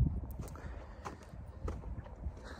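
Horse hooves clip-clop in a steady, uneven pattern of soft thuds on the ground, close by and moderately loud, with a faint hint of voices in the background.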